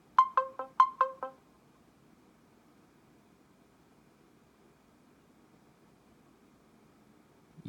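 A few quick bursts of a bright electronic timer ringtone from a Punkt MP02 phone at the start, then near silence with faint background hiss.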